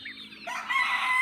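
A local banded gamefowl rooster crows close by in a short burst, the call rising into a loud, strained tone that holds to the end with no talk over it.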